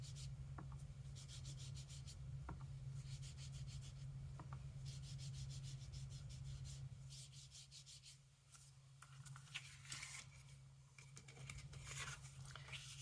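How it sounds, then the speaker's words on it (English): A sponge dauber scrubs ink onto scratch paper in steady, soft rubbing strokes over a constant low hum, the scuffing pulses coming close and regular before briefly thinning out. "brush off the sponge dauber on your scratch paper first before you rub it on"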